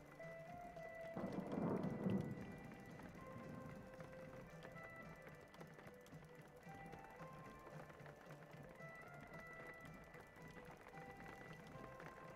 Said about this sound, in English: Why does it still sound like it's raining if we're in a tunnel?